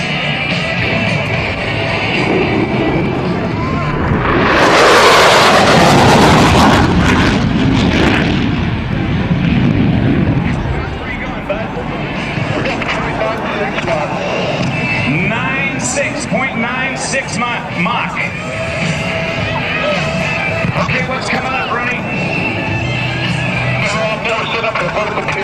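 A US Navy F/A-18F Super Hornet jet at an airshow makes a roaring, rumbling pass that swells and fades early on, followed by crowd ambience and a commentator speaking over the public address.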